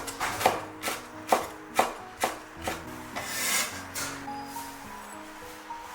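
A knife slices bird's eye chili peppers into thin rings on a board. Roughly eight sharp, evenly spaced chops fall close and distinct, then soften into quieter scraping at the end.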